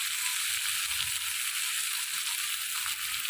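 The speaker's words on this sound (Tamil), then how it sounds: "நல்லா வதங்கட்டும்." Pirandai curry ingredients sauté in a pan with a steady, soft, close hiss of frying oil that continues without a break.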